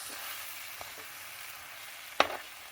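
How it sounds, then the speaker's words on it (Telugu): Onions and green chillies fry in a pan as ginger garlic paste is added, producing a soft, steady sizzle with a few faint stirring taps and one sharper clatter near the end. "ఉల్లిపాయలు పచ్చిమిరపకాయలు వేసి వేగిన తర్వాత అల్లం వెల్లుల్లి పేస్ట్ వేసి"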